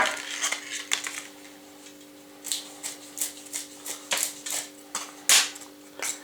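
Reed stalks being cut for small bee houses make a series of crisp, dry snips and clicks in an irregular rhythm, fairly close, over a steady faint hum; no one talks.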